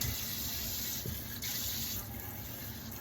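Warm water runs from a kitchen tap into a sink for cleaning meat, a steady, soft stream that stays close and even throughout.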